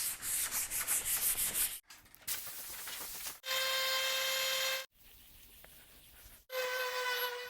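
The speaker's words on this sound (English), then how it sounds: "And hand sanding is always fun too, you know." Hand sanding a very thin wood veneer table top being refurbished produces rapid rhythmic scratchy strokes up close, broken by pauses and by spells of a steady tonal whine.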